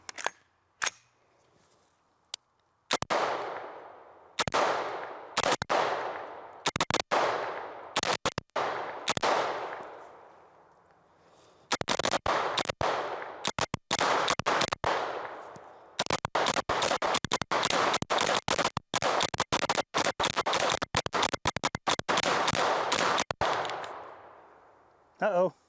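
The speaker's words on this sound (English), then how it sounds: "we are just going to fire to see if and what any kind of malfunctions we might get" An AK-47 rifle fed from an ATI S60 magazine fires a long string of sharp, loud gunshots, first spaced single shots, then rapid dense bursts, with pauses between strings.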